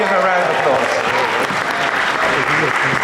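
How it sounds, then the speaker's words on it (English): Presentation audience at a Lego Group event at CES gives a round of applause, dense clapping filling the whole moment, with speech over it. "Come on in, give them a round of applause."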